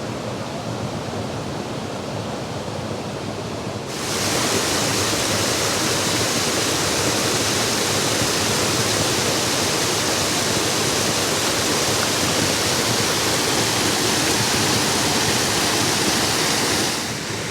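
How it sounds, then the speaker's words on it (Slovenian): Small waterfalls on the Bistrica stream near Preddvor, a constant broadband rush of falling water that grows louder and closer after a few seconds, then holds steady with no voices. "No evo, sami lepi slapiči na Bistrici"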